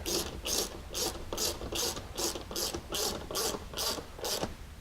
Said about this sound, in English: you can go ahead and tighten down all the cup washers at this point